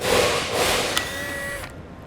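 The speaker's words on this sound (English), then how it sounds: "we need to back the screws out" A driver backs square-drive screws out of an Optronics rectangular LED trailer clearance and side marker light, with a steady close motor whine lasting about a second and a half before it cuts off.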